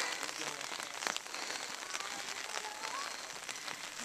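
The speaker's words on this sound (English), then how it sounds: "It's decided to rain and sleet on us again." Steady rain and sleet falling outdoors on a hillside trail at Mesa Verde, a continuous soft hiss of drops with a brief louder patter, no talking.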